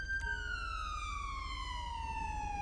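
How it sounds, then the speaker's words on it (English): Police car siren from a patrol vehicle in the LSPDFR police game, a steady sweeping wail that glides slowly downward, loud and continuous over a low engine rumble throughout. "you can kill your sirens now"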